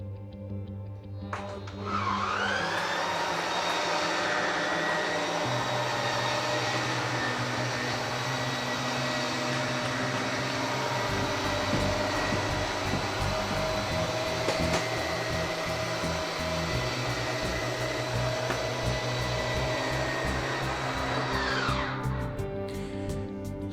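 A hydraulic slide-out room on a new 2021 Forest River Riverstone Legacy 391FSK fifth-wheel RV moving, a steady whirring motor-and-pump whine that starts abruptly, holds evenly for about twenty seconds, then cuts off.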